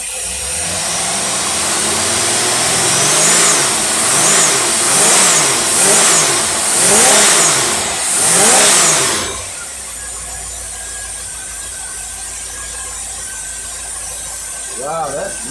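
A car engine fitted with a brand new Holley carburetor surges loudly and close by, its revs rising and falling in a repeating wavering cycle before settling into a rough, lower idle.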